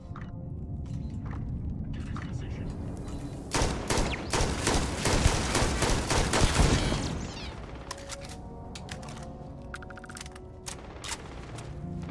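Turret gunfire in the video game Starfield: a dense, loud burst of rapid shots lasting a few seconds over steady ambient game noise, with scattered mechanical clicks before and after and no talking.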